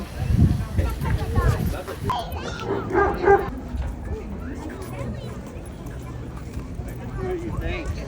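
Dogs bark and yip in short bursts amid voices and a busy background murmur.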